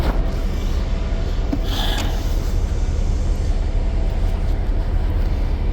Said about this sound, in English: Got our generator going.